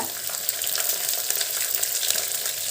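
Onions, garlic and curry leaves fry for an Andhra-style chilli curry, a dense, close, crackling sizzle with a scrape of stirring, alone without speech.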